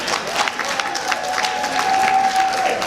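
Audience applause fills a speech event at a Tanzania Day 2019 gathering, steady dense clapping with some crowd noise throughout, a faint tone running beneath.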